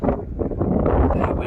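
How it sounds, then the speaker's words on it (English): Wind buffets the microphone outdoors on open hilly ground near abandoned farm cottages, a loud continuous low rumble with gusty surges. "Very windy."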